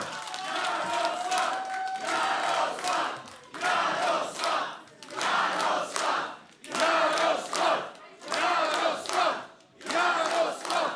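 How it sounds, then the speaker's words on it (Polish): Crowd at a Polish election-night party cheering and chanting in rhythmic bursts, loud swells rising and falling roughly every second and a half, with some clapping mixed in. "Ogromne brawa!"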